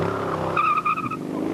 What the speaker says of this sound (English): 172 there, just powering off the line in these Westfields